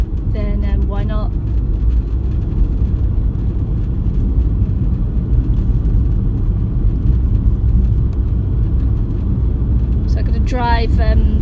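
A car cruises through the town of Rangiora, giving a constant low interior road rumble, with a voice briefly heard at the start and again at the end.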